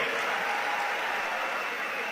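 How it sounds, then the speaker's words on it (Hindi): An audience at a storytelling event about the poet Rahat Indori claps loudly and steadily, a dense, continuous wash of applause with no break and no voices on top. "जोरदार ताली बजाइए"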